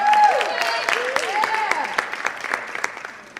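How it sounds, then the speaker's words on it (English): Audience at a high school poetry slam applauding as the student MC comes up, scattered clapping with cheers and whoops over it, tapering off over a few seconds. "Give him a round of applause."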